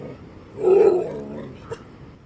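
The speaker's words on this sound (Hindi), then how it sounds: "यहाँ छत में देखो भाई अभी कितने सारे कुत्ते आ गए" Dogs on a rooftop beside a village house in the Himalayan hills near rice paddies give one loud, close bark or growl, followed by a fainter short yelp, with no talking.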